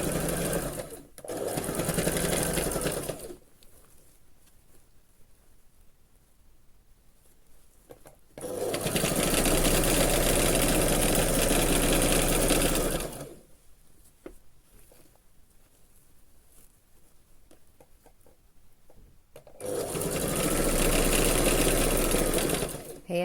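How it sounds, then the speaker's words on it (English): A sewing machine runs in three long bursts of steady, loud stitching along a dress sleeve during an alteration, separated by quiet pauses with faint handling. "So here I'm going to stitch it"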